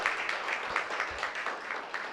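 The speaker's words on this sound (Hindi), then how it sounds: "तो गुरुजी के लिए जोरदार तालियां होनी चाहिए।" Brief patter of audience clapping at a devotional gathering, for a guru. It is moderately faint and steady, with the individual claps blurring together in a short burst.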